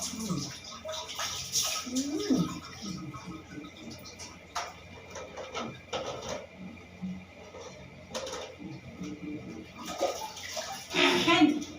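Water splashes and pours in uneven bursts during a morning bath, close by and moderately loud, with people talking and singing over the splashing.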